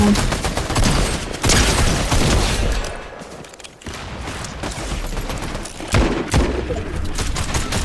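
Rapid bursts of gunfire in the Fortnite video game crackle loudly and almost continuously, swelling and dipping in dense volleys with a few heavier bangs.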